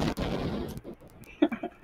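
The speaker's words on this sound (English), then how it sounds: "the landmines automatically explode" A heavy landmine explosion booms out at the start in the video game Happy Wheels, followed by a short rumbling tail and a few smaller thuds.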